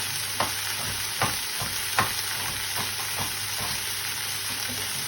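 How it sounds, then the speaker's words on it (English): Steady frying sizzle from beef browning in a hot pan for a casserole, with a few sharp scrapes and stirs of a utensil breaking through at irregular intervals. "Basically, you're trying to brown it all off so there's no more red left."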